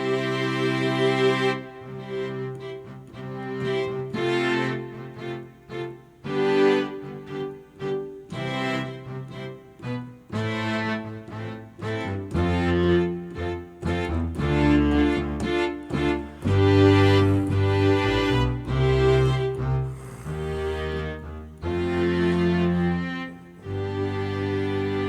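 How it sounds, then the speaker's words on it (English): Spitfire String Quintet sample played on a Nord Grand 2 stage keyboard, a lush bowed-string ensemble moving through swelling chords and melodic lines for the full stretch, loud and continuous with no voices. "This is the Spitfire String Quintet."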